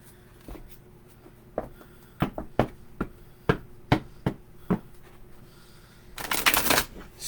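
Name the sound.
shuffling oracle cards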